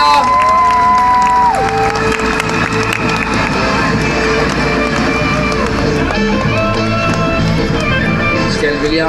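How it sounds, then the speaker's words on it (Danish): A crowd applauds and cheers at a monster truck stunt show. The noise is loud and sustained and runs continuously, with someone speaking over a PA and a brief tonal whistle early on. "Jeg er klar til at give ham en stor hånd, mine damer og herrer."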